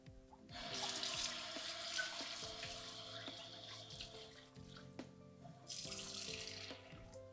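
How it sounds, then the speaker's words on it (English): Water runs steadily from a tap into a cooking pot, a close, continuous splashing stream with a short pause midway before it resumes. "you can add a little more water"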